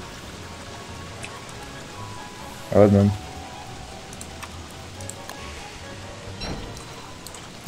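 Steady rain falls in the Don't Starve Together video game during a Hallowed Nights session, a constant soft patter under occasional quiet speech, with one brief louder in-game sound partway through.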